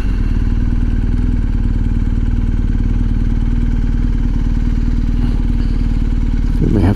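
A BMW R1250 GS Adventure motorcycle rides slowly through a U-turn, its engine thrumming steadily up close with a loud low rhythmic pulse and a brief rev near the end.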